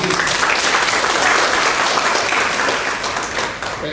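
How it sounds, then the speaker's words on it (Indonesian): Audience applause for the press at a contract-signing event opened by the NTT governor, a dense and steady wash of clapping from a gathered crowd that tapers slightly at the end. "tepuk tangan buat teman-teman pers."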